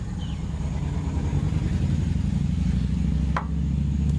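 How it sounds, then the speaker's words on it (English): A motorcycle goes by outside as a steady, low engine rumble that holds at an even loudness through the whole stretch, with no talking over it. "sure hope that was a motorcycle."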